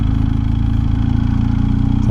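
A heavy touring motorcycle of nearly 500 kilograms pulls in third gear at about 1800 rpm, a loud, close, deep rhythmic engine thrum with a steady pulsing beat and no voices.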